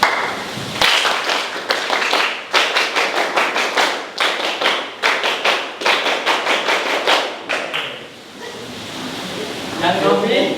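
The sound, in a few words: class clapping hands loudly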